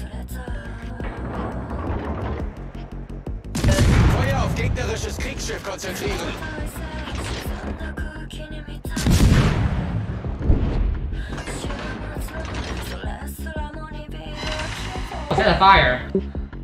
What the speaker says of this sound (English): Got shots off on the cruiser.